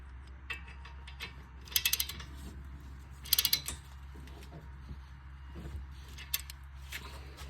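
A ratchet tightens the 17 mm brake caliper frame bolts on a 2018-24 Toyota Camry during front brake work. Two close, short bursts of rapid clicking stand out over a steady low hum, with a few fainter ticks between them.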